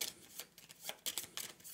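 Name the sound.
shuffling cards in a board game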